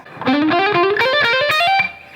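A fast electric guitar lick rises in quick repeated note patterns, a bright, loud, slightly effected run lasting about two seconds, played alone.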